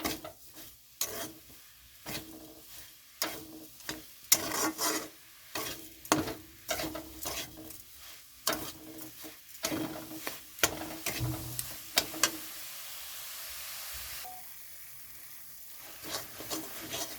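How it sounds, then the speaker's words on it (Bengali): Ground coconut is stirred steadily in a pan, giving a long run of rhythmic scraping strokes over a soft sizzle, fairly quiet and close, with no talking. "বেটে রাখা নারকেলগুলো দিয়ে দিচ্ছি। এটা এখন খুব নাড়তে থাকতে হবে যেন তলায় লেগে না যায়।"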